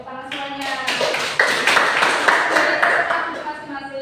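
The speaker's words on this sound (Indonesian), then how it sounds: "tepuk tangan semuanya" Students in a school classroom clap together in a brisk, uneven burst of hand claps, close and fairly loud, with voices talking and calling out over the clapping.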